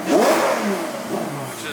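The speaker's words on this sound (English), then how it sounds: "off is going to be in quiet mode" A Ferrari F12 V12 with a full FI exhaust system and deleted catalytic converters revs in quiet mode, a rising engine note that swells and then settles into a smoother drone, close by with no talk over it.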